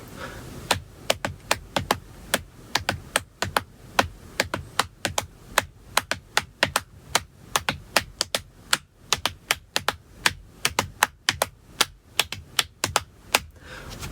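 Sharp, dry hand strikes on a wooden cajon box drum repeat steadily for over ten seconds, two interlocking patterns of three against four producing a dense, even rhythmic texture played alone and close.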